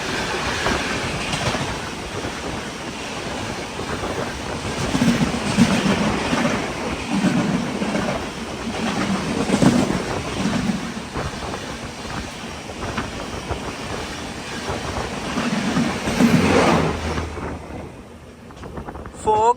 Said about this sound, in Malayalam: ഇപ്പൊ ഒരു ട്രെയിൻ വരും അജ്മീറിന് ജമ്മു താവിയിലേക്കുള്ള പൂജ എക്സ്പ്രസ്.